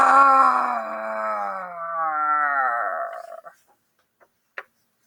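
A human voice imitates a lion's roar with a long, drawn-out growling bellow that fades after about three seconds, followed by a couple of faint clicks.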